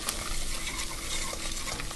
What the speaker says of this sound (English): our butter has melted and it's sizzling